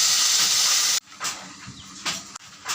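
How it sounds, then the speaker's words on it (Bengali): Milk poured into a pan of frying beetroot and carrot for baby food sets off a loud, steady sizzling hiss, which cuts out abruptly and returns in softer, uneven bursts. "দিয়ে একটু ভাজা ভাজা করে তারপরে দুধ দিয়ে দিলাম।"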